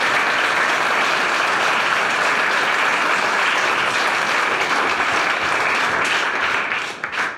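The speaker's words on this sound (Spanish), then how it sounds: "un fuerte aplauso para el péndulo caótico" An audience at a public mathematics talk by Marcus du Sautoy bursts into loud, dense applause after a chaotic pendulum demonstration, continuing strongly for several seconds before tapering off at the end.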